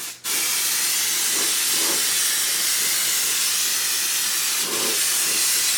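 Mold release sprayed heavily from an aerosol can onto a crystal mold, a steady loud hiss running almost unbroken for several seconds, with faint soft knocks underneath.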